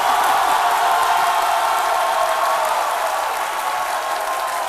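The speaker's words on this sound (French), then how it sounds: "Dr Philo sera avec moi, je vous demande de l'applaudir" A French television studio audience applauds, a dense, steady wash of clapping that holds at the same loud level for the whole stretch.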